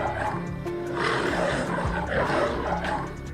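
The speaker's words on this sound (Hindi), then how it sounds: "तभी उसे शेर की आवाज सुनाई दी।" A lion roars amid a dense, loud wildlife ambience, with deep growling layered under other animal noises throughout, in the setting of a jungle.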